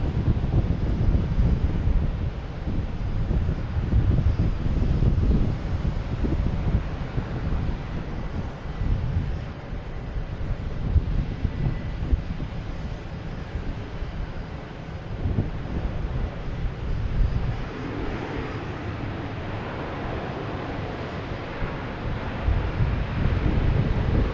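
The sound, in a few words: Icelandair airliner passing at Logan Airport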